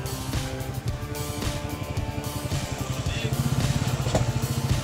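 A KLR motorcycle engine labors through a muddy crossing on Buffalo Mountain, a steady, close, rough throbbing drone with varying revs over the whole stretch.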